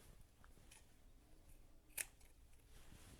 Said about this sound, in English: Then I'll trim off this zipper part like this